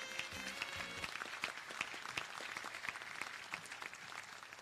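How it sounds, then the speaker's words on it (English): An audience claps steadily throughout a graduation ceremony, a moderate round of applause for the graduates heard from within the room, with a brief murmur at the start. "Please give the graduates a round of applause."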